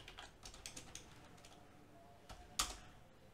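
Java code being typed on a computer keyboard: quiet, irregular bursts of key clicks with one sharper, louder keystroke near the end, with no voices.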